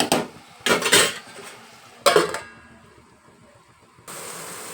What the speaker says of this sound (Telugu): ఇప్పుడు మనం ప్లేట్ పెట్టుకుందాం